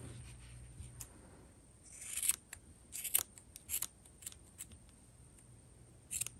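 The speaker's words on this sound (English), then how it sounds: "These aren't the best scissors," Scissors snip through crochet yarn to trim a tassel on a hooded owl blanket, a series of quiet, close, crisp cuts in irregular bursts over a faint background hiss.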